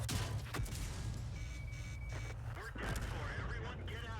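Tank cannon fire and explosions in a tank battle video game, with booming blasts under continuous loud combat noise throughout.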